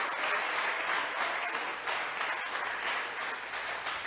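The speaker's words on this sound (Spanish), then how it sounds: "Fuerte las palmas al Señor" Church congregation clapping hands during a Sunday service, a dense, steady wash of applause that fills the whole stretch, loud and close with no breaks.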